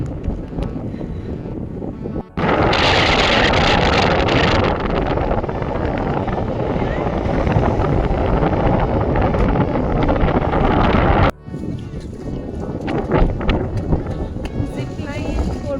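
Strong wind buffeting the microphone on a snowy mountain near Sissu, Manali: a loud, continuous roar for most of the clip that eases briefly near the end, with people talking around it.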